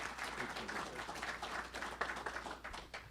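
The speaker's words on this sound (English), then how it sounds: "So with a round of applause" An audience at a program graduation ceremony gives a round of applause, scattered clapping that sounds soft and somewhat distant, continuing steadily before trailing off.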